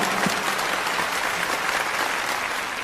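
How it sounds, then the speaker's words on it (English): Audience applause, a brief, dense and steady wash of many hands clapping at even loudness from start to finish, with no voices standing out. "Let's give them a round of applause"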